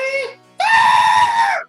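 A human voice imitates a screaming pig during a tabletop role-playing game session, a short squeal followed by a longer, loud, shrill drawn-out shriek that cuts off abruptly.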